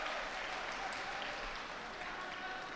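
Steady applause from the spectators at a judo Grand Slam arena in Abu Dhabi, a dense, even wash of clapping from a large crowd, heard at a distance throughout.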